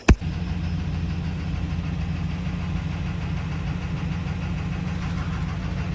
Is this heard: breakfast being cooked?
no